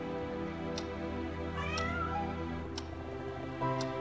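A black cat meowing in the video game House of 1,000 Doors, a few drawn-out clear meows over a steady tonal music background, with faint ticking clicks now and then.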